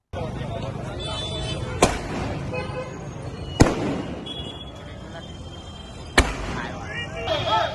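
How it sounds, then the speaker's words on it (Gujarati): Loud firecracker bangs burst three times at irregular intervals over a constant crowd murmur, with a faint whistle toward the end, as a large crowd in Mandvi celebrates India's Women's World Cup win. "મેચમાં જીત બાદ ફટાકડા ફોડી ચાહકોએ જીતની ઉજવણી કરી હતી"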